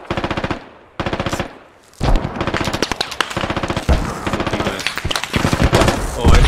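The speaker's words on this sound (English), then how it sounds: "They're firing from that apartment." Rapid automatic gunfire in the video game Squad, with bursts from several weapons over an urban firefight, loud and close with a few brief pauses, and voices talking now and then.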